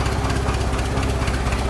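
A 1916 Dodge Brothers L-head four-cylinder engine runs steadily at idle, heard up close with a loud, even low rumble and a regular pulsing beat.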